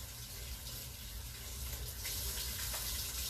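A kitchen tap runs in a steady, full gush as sticky cookie dough is rinsed off hands under the stream.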